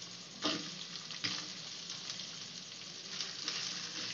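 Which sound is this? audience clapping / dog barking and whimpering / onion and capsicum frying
onion and capsicum frying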